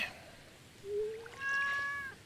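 A cat meows in the Stardew Valley video game: two short, fairly faint rising calls, one after the other, with no talk over them.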